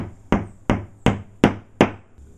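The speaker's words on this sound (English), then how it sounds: "And then I would just pound it in." A hammer strikes a drywall anchor into a wall five times in an even rhythm, each blow a sharp, close knock with a short ringing decay.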